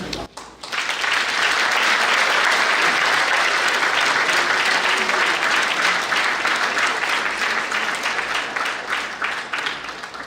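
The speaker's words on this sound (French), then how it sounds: "d'accueillir avec de chauds applaudissements le gouverneur Jean-Valéry." A large crowd breaks into loud, sustained applause, steady clapping that continues throughout and only slightly thins toward the end.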